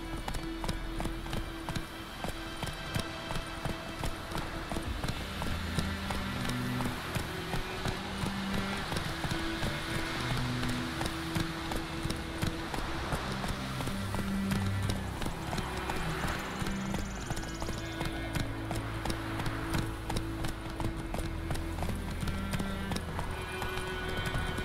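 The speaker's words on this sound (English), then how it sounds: "Whoa there, Roach!" Hooves of a horse clip-clop in a fast, continuous galloping rhythm in The Witcher 3: Wild Hunt, steady and prominent under a bed of ambient game sound, with occasional faint background noises.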